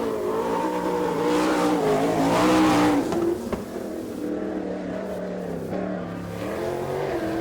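Supercharged winged sprint cars of the All Star Circuit of Champions at Lawrenceburg, Indiana, in 1999 roar loudly, with engine pitch rising and bending for a few seconds before settling into a steady, continuous drone.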